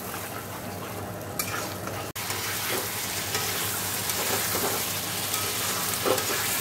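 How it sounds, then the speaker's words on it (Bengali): Fish pieces are sautéed in a spice masala with a continuous crackling sizzle, with brief stirring scrapes and a sharp click early on, all fairly close. "আর ভালো করে মাছের সাথে মশলাটা কষে নেবো"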